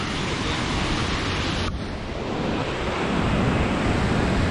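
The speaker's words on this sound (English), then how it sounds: "Got some nice whitewater rapids." Whitewater rapids rushing in a steady, loud, unbroken roar that stays close and constant throughout, with no voices over it.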